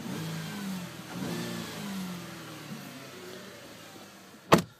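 A 2012 Buick LaCrosse engine revs up and settles in smooth rising and falling tones, ending with a sharp loud thump near the end; no talking.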